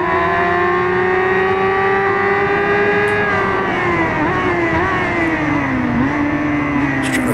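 A motorcycle engine in RIDE 5 at Le Mans holds a steady, loud drone with its pitch dipping and rising as the rider eases through gear changes on worn tires; no other sound stands out.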